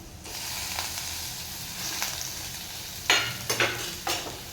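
Cleaned boi fish slide into a sizzling curry base of oil and Kashmiri chili masala; a soft steady frying hiss, then sharper crackling bursts as pieces hit the hot pan near the end.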